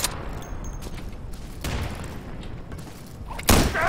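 Shotgun fire in Insurgency: a few sharp, loud blasts with short gaps between them, the last one the heaviest, over low background game noise and no talking.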